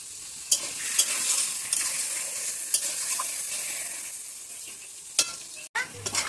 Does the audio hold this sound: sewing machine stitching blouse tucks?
no